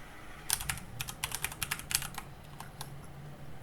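Rapid clicking of keys on a computer keyboard, an uneven burst of typing strokes at close range, then a few slower taps.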